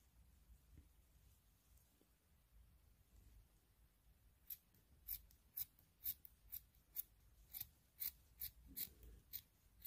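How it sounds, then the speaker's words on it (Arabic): Scissors cut through felt fabric squares, sounding about a dozen crisp, evenly spaced snips in the second half after a stretch of quiet room tone. "هلا انا رح قصهم وارجع لكم"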